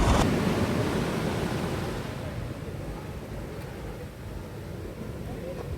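Ocean waves breaking along Kovalam beach, a broad steady wash of surf mixed with wind, loudest at the start and then settling into a continuous rumble heard from a vantage point above the shore.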